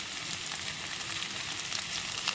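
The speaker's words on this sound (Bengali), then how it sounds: "আদা, রসুন আর কাঁচা লঙ্কার যে মিহি পেস্টটা বানিয়ে রেখেছিলাম, সেই মিহি পেস্টটা আমি এর মধ্যে দিয়ে দেব" Ginger, garlic and green chilli paste frying in a hot pan for paper chicken, giving a steady, even sizzle with soft crackles throughout, fairly quiet and without any talk.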